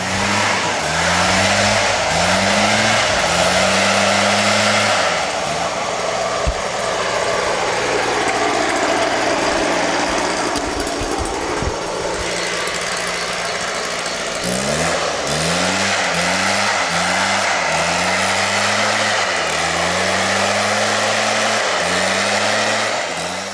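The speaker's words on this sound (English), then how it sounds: "there's a bloke with a leaf blower" A petrol leaf blower in Sabah, Borneo runs loud and close, its engine revving in repeated rising surges, easing to a steadier drone midway, then surging again, with no voices.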